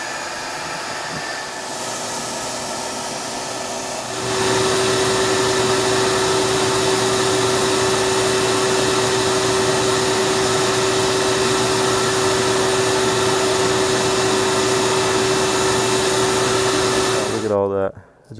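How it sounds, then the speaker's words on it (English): A vacuum starts up during dryer vent cleaning and runs as a steady, loud, droning whine with a constant tone for most of the clip, then cuts off abruptly at the end. "And now we're gonna hook the vacuum."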